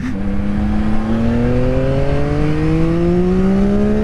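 A Yamaha XSR900 motorcycle engine accelerates hard, its pitch climbing steadily through a single long pull, loud and close.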